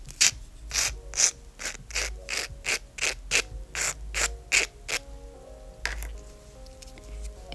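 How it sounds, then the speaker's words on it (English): A nail file is stroked back and forth across gel nails in an even rhythm of about a dozen close, scratchy rasps, which then trail off into quieter rubbing. "So I'm just gonna continue filing here."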